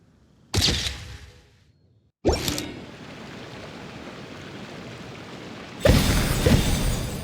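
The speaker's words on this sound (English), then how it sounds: "Fireworks!" Fireworks bursting in the video game Genshin Impact: two sharp loud booms a couple of seconds apart, the second trailing into a sustained crackling hiss, then a third bright burst near the end.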